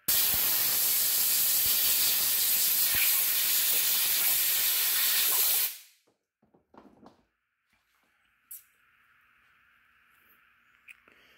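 A loud, broad hiss of compressed air blasts for several seconds while drying off an anodized titanium knife part, then cuts off abruptly, leaving a few faint knocks and a quiet hum.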